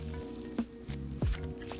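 Snow butter slime being squished by hand, giving soft sizzling crackles with a couple of sharper squishy pops, quiet and close, with no talking.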